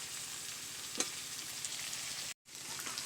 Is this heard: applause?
no